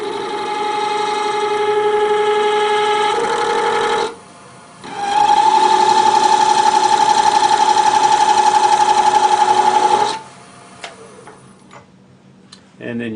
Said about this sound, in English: in order to do some texturing with this rotating Dremel tool burr